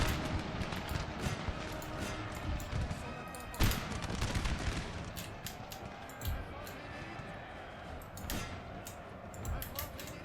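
Musket volleys in Napoleon: Total War, with sharp cracks and scattered shots popping over a dense battlefield din, one loud report standing out, and voices talking over it.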